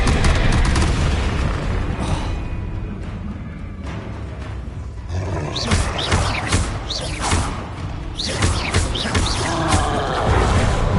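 Fiery Confringo spell blasts in the wizarding game Hogwarts Legacy: a dense run of booming, thudding explosions and crackling bursts over a busy battle soundscape, loud and continuous throughout.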